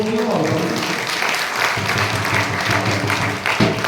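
Applause fills a devotional gathering, a loud, dense crowd clapping that carries on throughout with voices mixed in beneath it.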